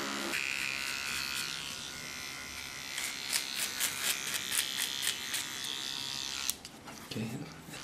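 A small electric hair clipper buzzes steadily while trimming a hair contour, a close, continuous whirring hum with brief changes in pitch as it moves, and a voice speaks over it.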